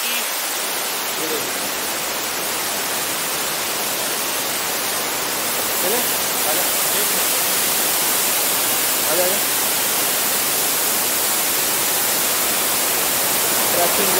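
Flowing water at Dabbe Falls, a waterfall viewpoint, roars as a dense, steady broadband rush that fills the whole stretch at high volume, with no distinct pauses or other sounds standing out.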